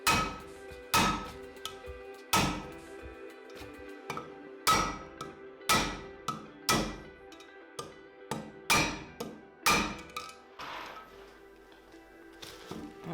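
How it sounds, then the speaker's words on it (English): Repeated sharp hammer strikes on a valve spring in a Lotus Europa cylinder head, at a steady, unhurried pace, about a dozen close blows with quiet gaps and faint ringing between them. "we're going to hammer the actual spring down"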